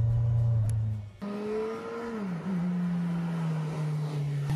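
A 2016 Kawasaki Z1000SX motorcycle engine drones at a steady idle, then revs up with a climbing, then easing tone and holds a strong, close, continuous hum.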